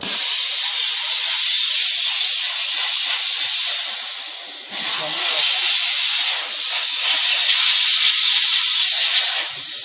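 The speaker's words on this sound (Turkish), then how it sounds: "Sadece buhar sürülüyor bak. Sadece buhar." Steam car wash machine blasting a continuous, loud, airy hiss of steam at close range, with a brief dip partway through before the spray resumes.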